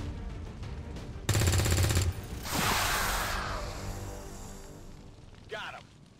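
Gunfire in the video game XCOM 2: a loud rapid burst of automatic shots, then a whooshing roar that fades, with a short rising sweep near the end.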